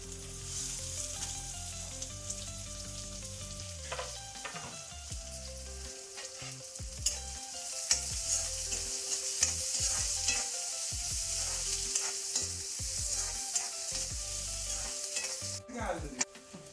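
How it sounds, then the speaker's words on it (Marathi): Cumin, mustard seeds and garlic sizzle and crackle steadily in hot oil for an Indian vegetable dish, with a continuous close frying hiss and occasional stirring clatter. "जिरा मोहरी तडतडली आहे, लसूण टाकते."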